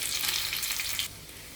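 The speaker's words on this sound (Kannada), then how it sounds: "ಬೆಳ್ಳುಳ್ಳಿ ನೋಡಿ ಗೋಲ್ಡನ್ ಫ್ರೈ ಆಯ್ತಲ್ವ" Crushed garlic sizzles loudly in hot oil with mustard seeds for a tempering, a steady close crackling hiss that drops off abruptly partway through.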